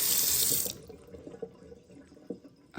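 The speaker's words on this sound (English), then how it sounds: "let's put some water" Water runs from a tap into an egg cooker in a loud hissing stream for about half a second, then cuts off, leaving faint drips and small clinks nearby.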